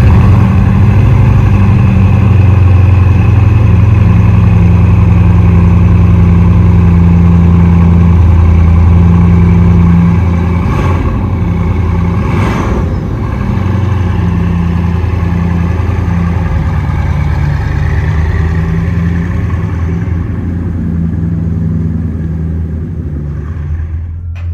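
A Bugatti Chiron Pur Sport engine warming up idles and rumbles loudly and steadily up close, with a few brief revs midway before the sound settles lower.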